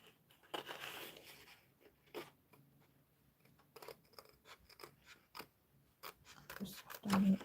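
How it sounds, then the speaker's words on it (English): Scissors snip in short, irregular bursts while card paper is fussy cut around a shape for a ribbon card with a pop-out inside, close and fairly quiet, with faint rustling and handling between cuts. "I'll have to just come in and just fussy cut around there."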